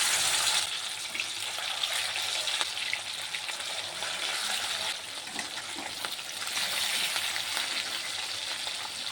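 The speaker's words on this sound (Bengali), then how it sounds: "তেলটি গরম হয়ে গেছে, আমি মাছটিকে ভেজে নেব।" Salted, turmeric-rubbed rohu fish frying in hot oil in a wok, a dense continuous sizzle with steady hiss and crackle throughout, close and fairly loud, no voices.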